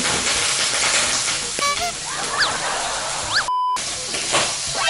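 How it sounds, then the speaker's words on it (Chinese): Pork stir-frying in a pan gives a steady broadband sizzle and hiss, with scattered squeaks and scrapes from stirring, loud and close with no talk. "现在我们开始炒猪肉啊。"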